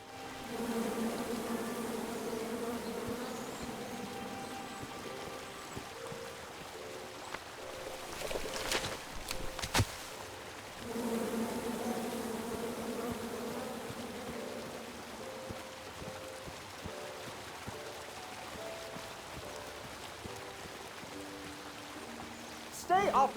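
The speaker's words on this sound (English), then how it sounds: "Come at me, bees!" A steady swarm-like buzzing of bees drones in the King's Quest game, fairly quiet and continuous, with brief clicks and rising tones breaking in partway through.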